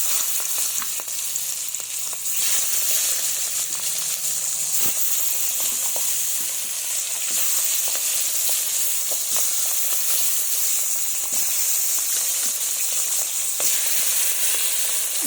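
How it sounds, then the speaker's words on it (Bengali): Fish frying in hot mustard oil, a whole-pan sizzle with dense crackle and occasional sharp pops, steady and close throughout with no voices. "এবার একটু তেলটা গরম হলেই মাছগুলো ছেড়ে দেব, দিয়ে ভেজে নেব।"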